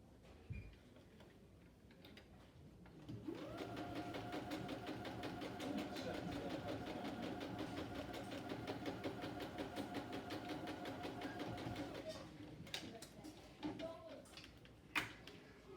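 A sewing machine stitches a DIY face mask, starting after a few quiet seconds and running in one steady mechanical whir with a fine ticking rhythm for about nine seconds before stopping. A few clicks and handling sounds follow.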